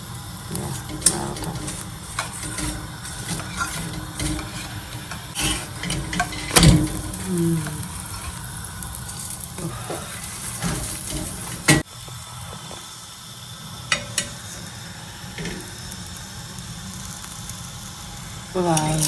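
Puran poli frying in ghee on a hot pan over raised gas heat, a steady sizzle and faint liquid crackle running under a woman's nearby speech, with occasional clinks of a utensil.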